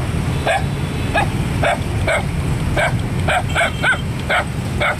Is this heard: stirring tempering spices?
no